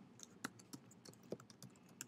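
Quiet, close keystrokes on a computer keyboard as an address is typed, a quick irregular run of about eight sharp clicks with brief pauses between them.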